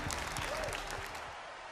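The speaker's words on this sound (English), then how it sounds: "Let's have a round of applause for our champion" Steady applause from a crowd at a FIFA 17 Ultimate Team championship in Berlin, dense and continuous clapping throughout, fairly loud and close.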